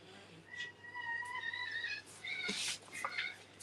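A house cat meows repeatedly and insistently to be fed, a string of drawn-out cries at close range in a quiet room, with no talking over them.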